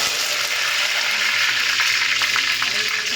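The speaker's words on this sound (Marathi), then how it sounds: "कढीपत्ता टाकायचा." Curry leaves and mustard seeds sizzle in hot oil in a pan while Nashik-style misal is prepared, a steady broadband frying hiss running throughout with faint crackles and no talk over it.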